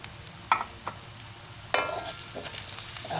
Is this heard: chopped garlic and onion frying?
yes